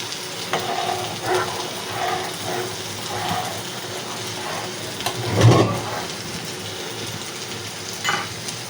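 Ginger garlic paste with turmeric and salt sizzles steadily in a frying pan, a close, continuous crackle broken by periodic scraping strokes of a stirring spoon.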